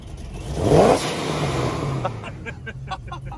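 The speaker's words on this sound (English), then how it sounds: "when your blow-off valve is this aggressive" Turbocharged car engine revving up hard, then the throttle snaps shut and an aggressive blow-off valve releases a loud hiss, followed by a rapid fluttering stutter as the engine settles; close and loud.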